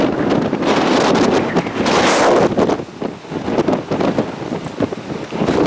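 Strong wind buffeting the microphone on a via ferrata climbing route, loud rough gusts that surge and ease in waves, heard alone with no talk.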